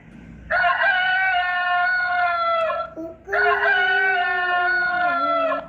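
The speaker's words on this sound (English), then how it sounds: "cock," A rooster crows twice in a row, each call a loud, long, tonal cock-a-doodle-doo held for a couple of seconds, with a brief pause between them and no talking.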